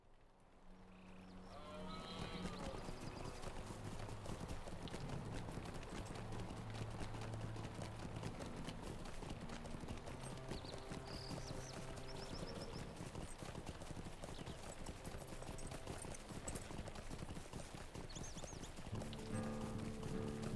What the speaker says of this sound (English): we're going to get on a horse